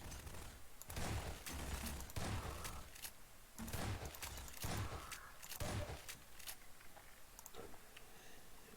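Gunfire crackles through a firefight in the video game Half-Life 2, bursts of rapid shots and impacts repeating over several seconds at moderate volume against a busy game soundscape.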